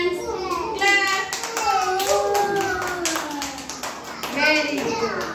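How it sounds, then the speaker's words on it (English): Children clapping their hands during a body-parts lesson, a run of uneven claps mixed with a teacher's and kids' voices speaking throughout. "Clap your hands."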